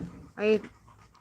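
A dog pants in a short burst of quick breaths, close by, with people talking softly around it.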